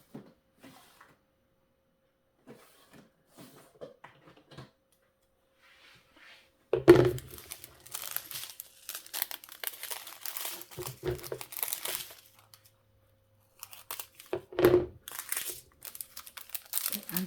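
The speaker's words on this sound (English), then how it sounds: "Let's just open up a random bag of drills so you can see what they look like." A plastic bag of diamond painting drills is opened close up, with crisp crinkling and rustling bursts after a quiet stretch of faint handling clicks, the bag crackling in several loud spurts.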